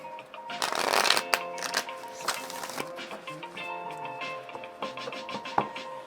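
Moon tarot cards being shuffled by hand in bursts of crisp riffling and flicking, close and fairly loud, with soft tonal background music underneath.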